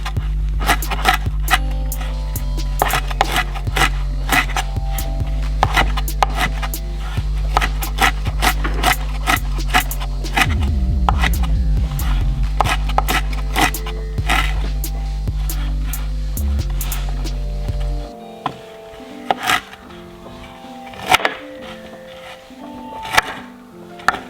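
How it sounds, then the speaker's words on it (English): A knife chopping broccoli, with many sharp, irregular cuts against a board sounding up close over a steady low hum that stops near the end, leaving a few isolated chops. "And we'll just chop these up too."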